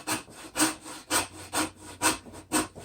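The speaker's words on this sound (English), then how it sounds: "I'm trying to use the hacksaw cockeye" A hacksaw cuts back and forth to widen a hole, giving six close, rhythmic rasping strokes about half a second apart, loud and alone.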